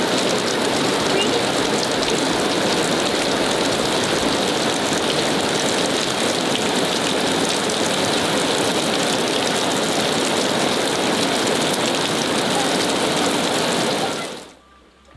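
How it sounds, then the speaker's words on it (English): Steady rain pours down outdoors as a dense, even hiss that continues for a long stretch before cutting off abruptly at the end, with no voices. "it is raining for real"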